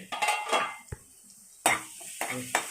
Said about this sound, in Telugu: ఒక 2 నిమిషాలు వేడైన తర్వాత మూత పెడతాము.